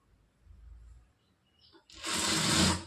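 A sewing machine stitching a blouse starts up after a quiet moment with faint handling sounds, then runs in a loud, steady whirring burst for about a second near the microphone.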